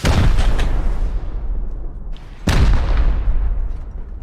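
Explosive raid charges detonating on a rock base in Rust: two heavy, close booms about two seconds apart, each with a sharp crack onset and a long rumbling decay, no talk over them.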